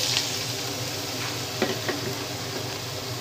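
Whole spices sizzling in about a third cup of hot oil in a pan while tempering mutton pulao, a steady broadband frying hiss with a few small crackles and pops, close and continuous with no talking.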